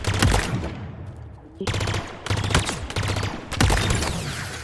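Covenant rifle fire in the Halo Infinite multiplayer beta, loud and close, with rapid bursts of shots separated by short pauses, all blended with game effects.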